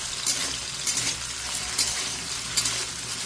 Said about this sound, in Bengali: আলুগুলো হালকা করে ভেজে নেবো